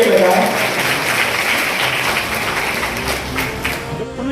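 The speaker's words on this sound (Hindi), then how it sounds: "मैं चाहूंगा एक बार जोरदार ताली अपने बच्चों के लिए बजाएं" An audience claps for children at a minority-affairs ministerial event in India, a steady wash of mixed applause with a voice faintly audible over it.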